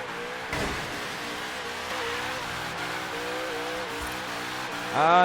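Supercharged HSV GTS doing burnouts in Forza Horizon 3, a loud sustained engine roar with wavering revs and tire squeal, rising sharply at the end.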